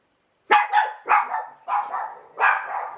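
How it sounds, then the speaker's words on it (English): A dog barks five times in a rough rhythm, close and loud, each bark short and clear against silence, after a brief quiet start. "It's only Molly that barks."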